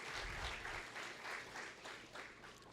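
A church congregation applauds with steady, sustained clapping from many hands, moderately distant and soft in level.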